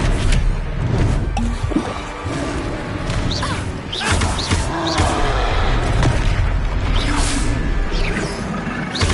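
Spell-casting effects in the video game Hogwarts Legacy crash, whoosh and boom in a loud, dense run of magical impacts layered over a game soundtrack, with no break.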